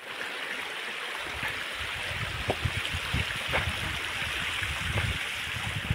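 A stream of drinking water flows along a channel in the Konkan countryside, a continuous, close rushing and gurgling wash that grows slightly fuller partway through, with no voices.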